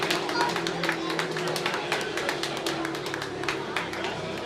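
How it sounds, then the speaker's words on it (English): A loose, scattered round of applause at a robot combat event between New Zealand and Australia, with individual claps popping out over a steady arena hum while people talk. "Big round of applause."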